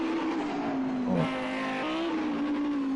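Audi and BMW race cars in Project CARS 2 at Bathurst drone loudly at high revs, the engine pitch dipping once as a gear shifts and then climbing again, with a faint tire squeal mid-run.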